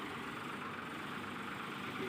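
Tractor engine idling steadily with a continuous low rumble and broad mid-range drone, close and constant throughout, at a farm gate while a peanut haul is brought in.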